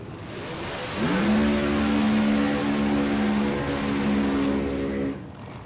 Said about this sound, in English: Jay Santos, always the valve spring test on the burnout here. 1969 Camaro out of Halton Hills, Ontario, Canada. Supercharged 526 Hemi on the tip